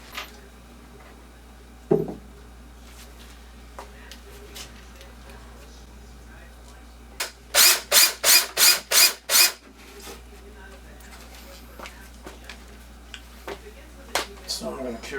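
A power drill driving screws into pilot holes in a wooden board for a hexagonal gaming table, a quick run of six or so loud, close whirring bursts amid scattered clicks and workshop handling noise.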